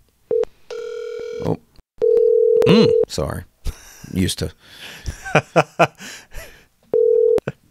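Steady electronic tones sound as a phone call is placed, with a long ringback tone and several repeated tone bursts, interspersed with brief murmured speech and a gasp between them.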